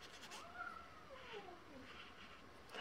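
A cat meows faintly with a few drawn-out, wavering cries heard alone in a quiet room.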